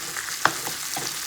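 Salmon fillets frying in a pan give a steady, soft sizzle with a few faint stirring or shifting clicks, heard close and alone with no talking.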